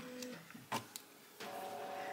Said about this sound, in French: il y a encore l'imprimante qui vous dit coucou